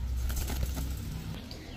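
A grizzle racer pigeon beats its wings in a short, close flurry of soft flapping bursts that thin out toward the end.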